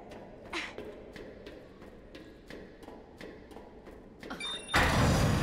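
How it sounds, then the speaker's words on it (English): Tram sliding doors in Resident Evil 2 Remake: a series of regular dull thuds and clicks, then a sudden loud hissing whoosh as the doors slide open near the end. "For your safety, stand clear until the doors are fully open."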